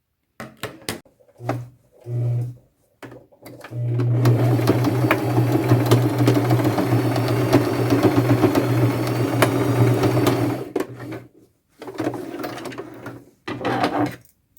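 A domestic sewing machine runs a long straight stitch in gold thread along jeans for patchwork, a steady close motor whir with needle clatter lasting several seconds, framed by shorter starts, stops and handling knocks.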